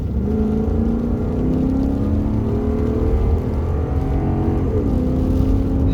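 A 1992 Mercedes 500E accelerates hard at full throttle from inside the cabin, its engine a loud steady drone with rising harmonics climbing through the gears and a brief shift dip near the end.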